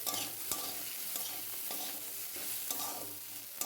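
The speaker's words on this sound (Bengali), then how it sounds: "তো ওলকপি একটু ভেজে নিই" Kohlrabi frying in a pan, a dense continuous sizzle broken by repeated scraping stirs of a spatula, close and fairly loud with no talking.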